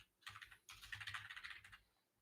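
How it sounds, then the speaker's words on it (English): Rapid typing on a computer keyboard, close and fairly quiet, in two quick bursts of dense clattering keystrokes separated by a short pause, with no speech. "I'm typing a lot. I'm sorry. I do type fast."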